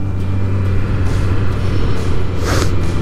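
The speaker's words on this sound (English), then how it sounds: "There's a school bus." A school bus passes by the historic Cowpens battlefield, a steady low engine rumble and road noise holding constant throughout, with a brief hiss of air or tires near the end.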